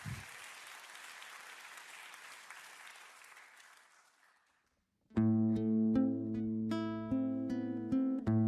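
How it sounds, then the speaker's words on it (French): Audience applause in a Marquesas-themed singing contest, a broad wash of clapping that fades out over about four seconds, followed by loud sustained music with tonal chords starting after a brief gap. "sous vos applaudissements, s'il vous plaît"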